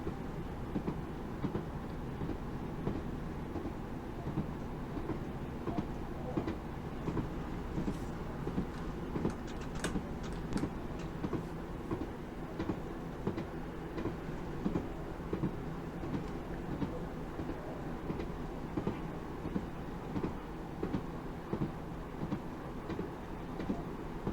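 Class 156 diesel train running on rails at about 50 mph in Train Simulator 2021 on the Norwich to Great Yarmouth Wherry Lines, a steady rumbling engine drone with rhythmic clickety-clack wheel beats throughout.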